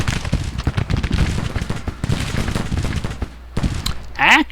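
Dense volleys of musket fire crackle from two Civil War brigades shooting into a small force in a strategy game, rapid overlapping shots for most of the span before a short lull and a final burst.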